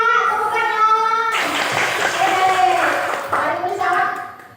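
Schoolchildren in a classroom clap their hands together, a dense burst of many small hands beginning sharply partway through and fading near the end, mixed with children's voices.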